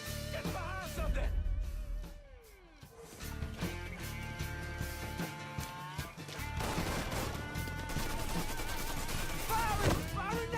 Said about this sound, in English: Firing! Firing now!